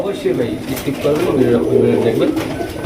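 Many pigeons, both common and fancy birds, coo at a seller's stall in a low, layered chorus of soft repeated coos that carries on under a voice.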